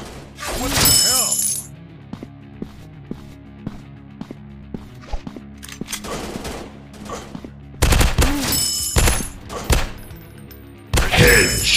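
Gunfire rattles through an FPS robot shooting video game: bursts of rapid automatic shots with shattering impacts alternate with sparse single clicks and thuds, loud and close, with speech in the game.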